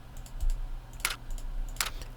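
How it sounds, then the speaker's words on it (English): Typewriter-style key clacks used as a dialog typing effect in a Scratch game, a few sharp isolated strikes spaced unevenly over a quiet background. "I also imported typewriter sounds,"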